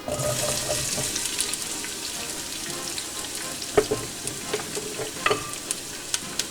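Onions sauté in oil in a pan, a steady close sizzle with occasional stirring clicks and scrapes toward the end.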